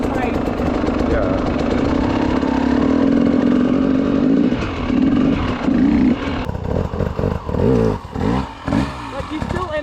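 A motorcycle engine runs steadily with a low, droning tone while the rider practices lifting the front wheel about 15 to 20 centimeters. The pitch shifts and pulses toward the end, suggesting throttle changes during the wheel lift.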